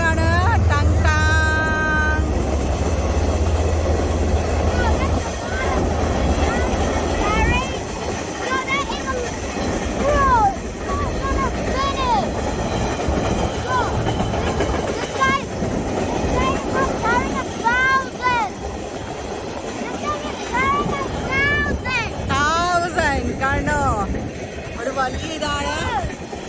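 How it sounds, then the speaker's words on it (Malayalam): A freight train that hauls timber, running back empty after a delivery near Tauranga, New Zealand, rumbles past with a low continuous roar, loudest in the first seconds, while people talk excitedly over it throughout. "ഇത് നമ്മുടെ തടിയൊക്കെ എടുത്തോണ്ട് പോണ ട്രെയിനാണ് കേട്ടോ"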